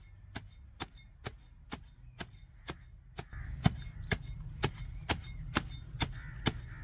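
Garden weeds being chopped: a steady series of sharp chopping strikes, evenly spaced about every half second, close by, growing slightly heavier partway through; no voices.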